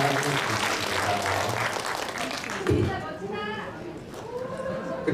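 An audience claps at an orchestra medley concert, a steady loud wash of applause that dies down as a voice speaks over the tail end.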